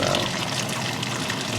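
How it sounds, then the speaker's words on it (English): Simmered cream is poured from a pot through cheesecloth, a steady close splashing, trickling stream with no talk over it. "we're just gonna pour into the cheesecloth"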